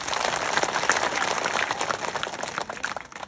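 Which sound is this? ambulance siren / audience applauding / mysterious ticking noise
audience applauding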